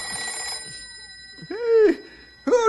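An old-style telephone bell rings in a radio drama set at a ranger headquarters, sounding in two bursts with a gap between them, close and loud over a quiet studio background with faint tonal hum.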